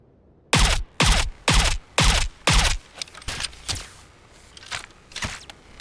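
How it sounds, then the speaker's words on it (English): Redesigned gunfire of the Nemesis assault rifle from the Apex Legends video game: five loud, evenly spaced punchy bursts, followed by a quieter, looser series of shots and trailing mechanical clicks. "the ReSound I did of the Nemesis assault rifle from Apex Legends"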